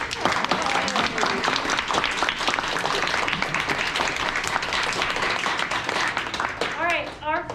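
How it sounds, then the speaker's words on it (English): A crowd applauds after a student play at a school share day, dense clapping from the audience with some cheering and voices mixed in, fading near the end as a voice emerges. "one more round of applause for Brandon."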